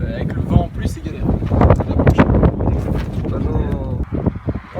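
Gusting wind buffets the microphone outdoors during piston work on a 1986 scooter engine, a rough, loud rumble under ongoing talk.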